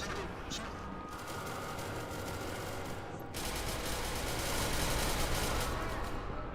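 Dense, sustained automatic gunfire in a shooter video game rattles on continuously, growing louder in the second half, while players' voices come through faintly underneath.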